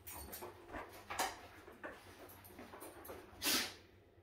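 Pet dogs pant and shuffle indoors in a small cabin-style house, quick soft breaths close by with a brief louder rustle near the end.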